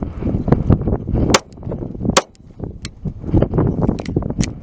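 A Glock 48 pistol fed from a Shield Arms S15 magazine fires a few sharp, loud shots at an outdoor range, scattered among clatter and handling noise.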